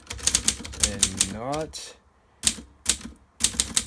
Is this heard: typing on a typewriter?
yes